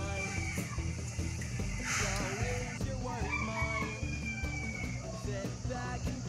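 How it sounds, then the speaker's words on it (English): A rooster in the Dominican Republic crows loudly nearby at 4:30 in the afternoon, its drawn-out call repeating over steady low background noise and some clucking. "Our rooster doesn't know that it is 4:30 in the afternoon."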